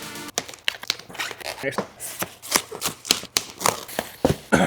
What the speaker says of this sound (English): let's start by snapping all this plastic off